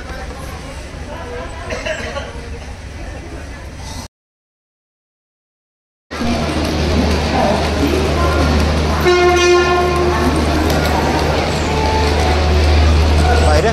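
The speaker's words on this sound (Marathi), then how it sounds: "सो छान स्पीडनी आली आहे ट्रेन" An Amravati–Pune express train roars loudly and steadily close by, arriving at Pune station, rumbling on the rails with a horn sounding, broken by a short silent gap. A voice talks over it.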